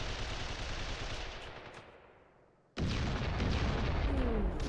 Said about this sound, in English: Or potentially just the way to die from the sound of that gunfire.